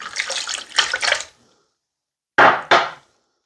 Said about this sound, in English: I'm gonna put the water here.